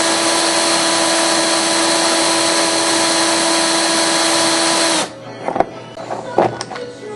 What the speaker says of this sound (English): put your drill in reverse and slowly mark your hole going backwards in reverse.